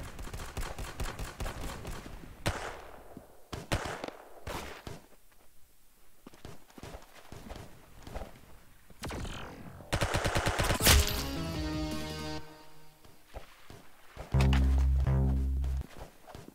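Rapid gunfire in the video game Arsenal: bursts of sharp shots and quick automatic volleys, close and loud, with some gaps between them and a heavier burst near the end.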